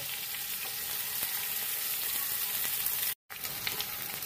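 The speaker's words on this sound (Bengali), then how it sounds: "এবার আমি এগুলোকে মিক্স করব মশলাগুলো কষানোর জন্য।" Spices, garlic paste, ginger paste, green chillies and ripe tomato frying in a pan for Bengali-style pabda fish curry, giving a constant soft sizzle with a brief dropout, no voices.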